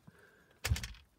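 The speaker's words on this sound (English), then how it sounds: "Watch this telephone pop out here" The built-in telephone of a 2001 Audi S8 4.2 V8 Quattro pops out of the console with a faint click followed by a short, soft mechanical thunk up close. No one speaks.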